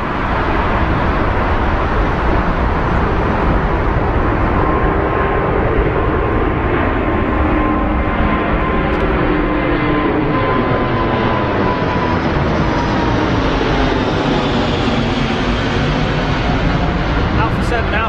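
A Qatar Airways Airbus A380 climbs out after takeoff from Heathrow, bound for Doha, with a steady, loud roar of jet engines that holds throughout and slowly shifts in pitch as the aircraft banks away.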